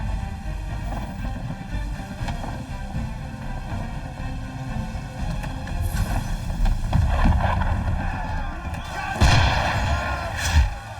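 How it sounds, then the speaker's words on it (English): Ship cannons fire in Assassin's Creed III amid wind and sea noise on deck, dull booming blasts rising over a steady rushing roar, with heavier impacts toward the end. "Why is he shooting at us?"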